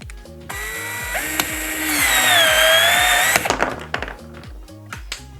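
Milwaukee C12 PPC-0 cordless pipe cutter slicing through 40 mm reinforced PEX pipe with 6 mm walls, a close ratcheting whir that rises into a sustained whine, then winds back to rhythmic clicking.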